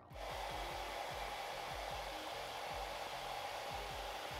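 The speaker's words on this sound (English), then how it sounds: "the first thing we're gonna do with our hair dryer is actually we're gonna heat up just the top of this curler here" A hair dryer blows hot air onto the top of an eyelash curler, a steady whirring hum that stays fairly quiet throughout, with no talking.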